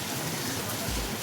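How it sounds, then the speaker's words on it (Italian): Steady rain falls outside in Istanbul, heard from indoors as a constant soft hiss with a broad wash of patter and no separate drops, continuing unbroken at moderate loudness. "Comunque fuori piove."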